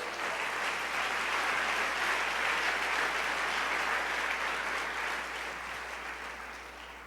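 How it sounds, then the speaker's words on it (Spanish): A church congregation applauds steadily in a sustained, dense wash of clapping that holds for several seconds and tapers slightly at the end, with no voices over it. "Denle ese aplauso a Dios"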